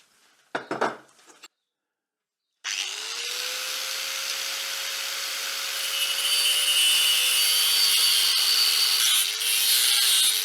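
A power saw cuts about a centimetre off a wooden curved tool rest for bowl turning, a brief burst of handling knocks followed by a loud, steady whining cut with a constant tone that carries on to the end.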